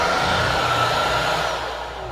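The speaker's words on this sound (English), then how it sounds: "it is so easy to vacuum all the mess that the birds did" A Honiture P7 Pro cordless vacuum cleaner picking up bird mess runs with a loud, steady, high-pitched whir that eases slightly toward the end, with no voices over it.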